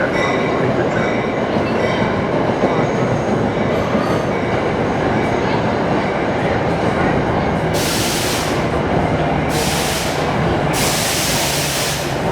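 A New Jersey Transit train rolls through Newark Penn Station with a steady loud rumble of wheels on rails, joined near the end by several bursts of sharp hissing or squealing.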